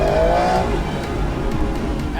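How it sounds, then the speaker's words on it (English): Aston Martin V12 Vantage with its 12-cylinder engine, a loud, close, sustained exhaust roar holding steady with a rising tonal whine at the start and no talking. "Absolutely beautiful noise that you only get from a 12-cylinder engine."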